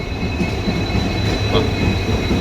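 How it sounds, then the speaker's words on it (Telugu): Close, loud rumble of passenger train carriages rolling through a station, with a faint metallic squeal from the wheels over the steady roar. "ఆ ప్యాసింజర్ ట్రైన్ వచ్చింది, వెళ్ళిపోయింది."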